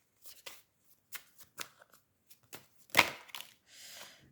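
Tarot cards are shuffled close up, a series of short papery riffles and slaps in an uneven rhythm with one louder snap near the middle and a softer swish at the end, quiet and alone with no talk.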